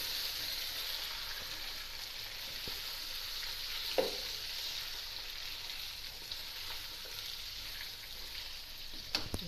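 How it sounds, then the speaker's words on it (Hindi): Chicken frying in a pan with browned onions, a steady hissing sizzle throughout with an occasional clink of a utensil, close and continuous, no voices. "अब हमारा प्याज ब्राउन हो गया। अब हम इसमें चिकन डाल देते हैं।"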